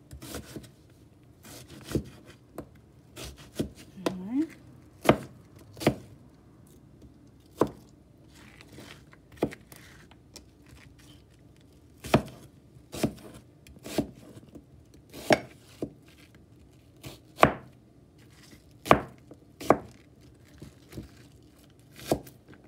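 Knife chopping through food on a cutting board while preparing Jamaican brown stew chicken, a series of sharp, distinct close thuds at irregular intervals against a quiet background.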